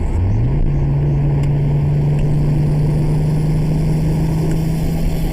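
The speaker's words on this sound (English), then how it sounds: "Here's some turbo noise." Loud engine drone from a turbocharged Toyota Supra MK4 with a rising tone that settles into a sustained steady pitch, like a turbocharger spooling up over the running motor.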